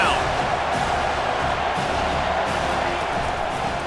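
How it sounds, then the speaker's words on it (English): Stadium crowd in a college football video game, a loud steady roar of cheering and noise building on a third-down defensive stand, sustained throughout. "Decibels rising as the crowd gets behind this defense on 3rd down."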